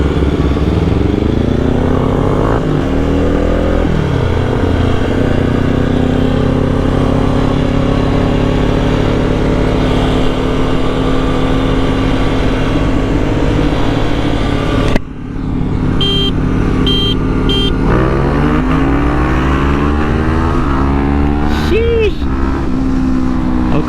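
A Kawasaki Ninja 400 and a Kawasaki KLX 300 roar loudly side by side, accelerating hard in second gear with rising engine pitch, a brief break, then another revving pull as a rider calls out over the din.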